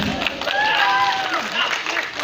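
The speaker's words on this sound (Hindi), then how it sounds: "ताली बजाउनु" An audience at a comedy show applauds a performer's entrance, a dense burst of clapping mixed with crowd cheers and voices, fairly loud and continuous through the short stretch.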